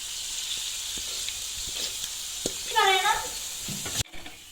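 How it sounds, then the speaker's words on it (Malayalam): Cauliflower pieces for gobi manchurian deep-fry in oil with a steady, bright sizzle that runs throughout, broken by a few soft knocks and a short chirping sound near the end. "നമ്മളത് ഫുള്ള് വറക്കാൻ വേണ്ടി ഇരിച്ചിട്ടുണ്ട്"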